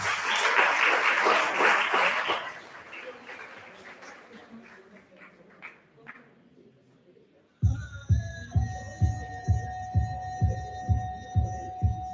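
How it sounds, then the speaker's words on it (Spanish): Loud audience applause welcomes a dancer at an 'Ori Tahiti fundraising gala, a dense burst of clapping that thins and fades over several seconds before rhythmic drumming music begins. "con su fuerte aplauso, por favor, recibamos a Aranza Alonso"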